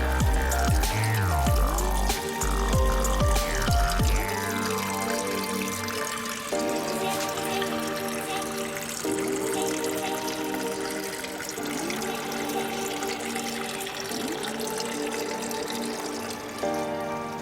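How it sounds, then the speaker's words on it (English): Coolant water drains from a car radiator petcock during a home radiator flush, a steady trickling flow with running-water splash, continuous and fairly close, with no talking. "I'm gonna show you in detail the petcock and the water draining out"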